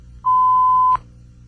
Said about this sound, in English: fill in the blanks with the correct words after you hear the beep tone